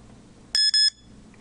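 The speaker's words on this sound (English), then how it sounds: "press record, loud beep" Two quick loud electronic beeps in close succession from an Xdreme HD camera as recording stops, a sharp double tone, then quiet.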